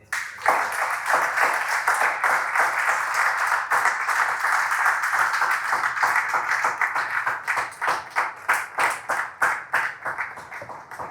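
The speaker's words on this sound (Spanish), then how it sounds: "¿cuántos le dan palmas al Señor?" A church congregation claps their hands in praise, starting as a dense burst of applause that gradually thins into slower, more distinct rhythmic claps toward the end, with no speech.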